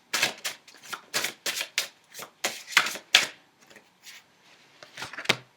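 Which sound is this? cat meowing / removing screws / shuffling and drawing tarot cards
shuffling and drawing tarot cards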